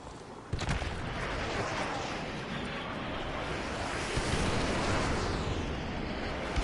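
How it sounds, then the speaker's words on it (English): Airstrike explosions in Call of Duty: Modern Warfare Remastered, a heavy continuous roaring rumble with a sharp blast near the start and another swell later, dense and loud throughout. "Target confirmed. Stand by for airstrike."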